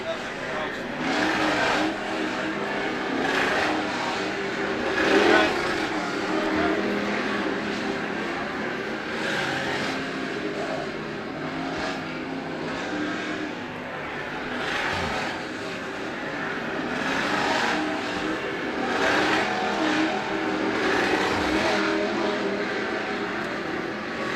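Sportsman race cars lapping a dirt track at a motorsports park, a dense continuous engine roar that swells and fades as the pack passes, with an announcer calling the race over it.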